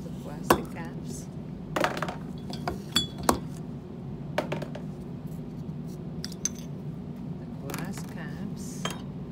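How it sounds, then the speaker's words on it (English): Plastic caps pulled off BOD sample bottles in a lab, giving scattered sharp clicks and clinks at irregular intervals over a steady low background hum. "Take out all the caps. The plastic caps."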